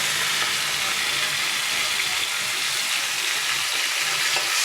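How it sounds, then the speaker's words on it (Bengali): Shrimp sizzle steadily in hot oil in a wok, a loud, constant crackling hiss heard up close with no talk. "তেলটা আমার গরম হয়ে গেছে, আমি চিংড়ি মাছগুলো হালকা ভেজে নেব।"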